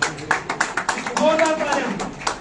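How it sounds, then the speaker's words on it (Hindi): Audience clapping at an award ceremony held by the Baramulla traders federation, scattered claps and taps mixed with an announcer's voice and loud hall sound over a short stretch. "जोरदार तालियां।"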